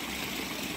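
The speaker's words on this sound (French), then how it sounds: "la cascade fait un peu trop de bruit" A waterfall on a trip in the United States gives off a steady, close, rushing roar of broadband noise with no voices, even and unbroken throughout.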